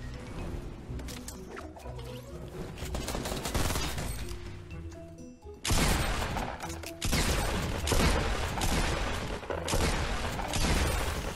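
Gunfire in the video game Fortnite rattles in dense, rapid bursts, loud and nearly continuous, with heavier sustained firing in the second half.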